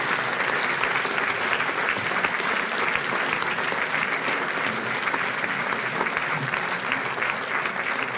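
Concert audience at a centenary performance of a wind band applauding, a dense even roar of clapping that holds steady without pause throughout, heard from within the hall.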